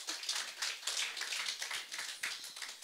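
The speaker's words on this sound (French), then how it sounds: "que l'on applaudit encore une fois" An audience at a business forum applauds with dense, steady clapping that runs the whole time, fairly close and without pause.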